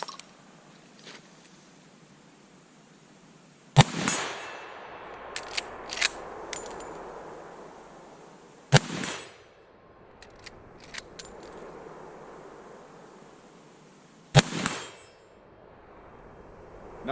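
Three loud shots from a Winchester Model 94 30-30 lever-action rifle, spaced several seconds apart, each a sharp crack with a ringing metallic tail from a steel target, plus faint small clicks and clanks between shots.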